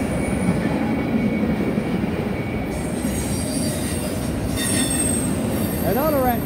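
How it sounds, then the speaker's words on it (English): A freight train rolls steadily past, its heavy rumble and clattering wagons loud and close, with high wheel squeals rising near the end. "The second train today."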